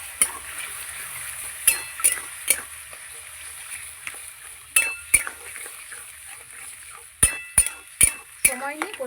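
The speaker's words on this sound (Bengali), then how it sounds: "এবার ভালো করে একসাথে সব কষিয়ে নেব।" Green peas and spices fry in a pan while a spoon stirs them, so a low sizzle runs underneath sharp metallic clinks and scrapes that come in irregular bursts, sometimes two or three close together.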